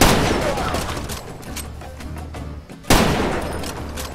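Gunfire in the video game Far Cry 2, dense bursts of shots and booming blasts with a sharp loud crack near the end, a voice briefly heard over the din.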